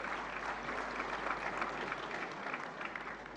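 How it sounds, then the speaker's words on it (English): Sustained audience applause at a national film awards ceremony, a dense, even wash of clapping from a large hall that holds steady and fades slightly at the end. "A round of applause, please"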